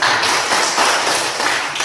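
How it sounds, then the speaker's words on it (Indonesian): A class of students clapping hands together in a classroom lesson, a dense burst of fast overlapping claps filling the whole moment, loud and close. "Tepuk tangan dulu."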